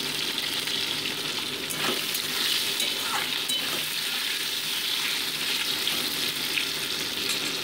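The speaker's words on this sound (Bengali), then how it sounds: "মোটামুটি আলুগুলোকে আমি 2 মিনিট ভেজে নিচ্ছি।" Pieces of new-season potato frying in a pan with oil, a constant close sizzle with scraping stirring strokes and faint clinks now and then, no voices.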